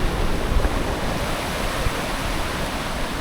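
Sea waves wash onto the shore in a steady, broadband roar, close and continuous, with no voices over the surf.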